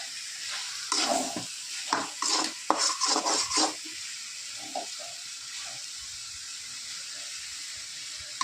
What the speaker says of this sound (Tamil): நல்லா இதை வதக்கி விடணும்.